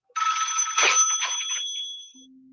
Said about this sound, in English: Phone rings and Polly picks it up.